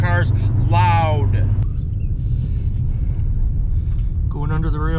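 A loud car engine rumbles steadily while driving, a constant low drone under the driver's intermittent talking.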